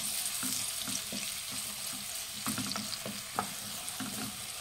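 Finely chopped onions frying in hot oil make a soft, continuous sizzle, broken by repeated light scrapes and taps of a spoon stirring them around the pan, fairly quiet and close.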